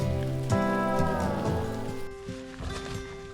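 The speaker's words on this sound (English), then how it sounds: "With a little bit of rain coming down, it was time to set up camp." Steady rain falling at a campsite in Iceland, a continuous close hiss with a low tonal hum running underneath throughout.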